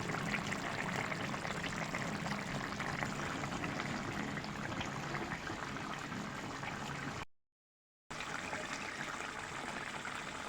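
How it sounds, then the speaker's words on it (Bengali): Rui fish with tomato cooks in a pan with a steady, dense bubbling and sizzling hiss that continues unbroken, apart from one brief gap of silence near the end. "মাছটা এখন আমি সুন্দর করে রান্না করে নেবো"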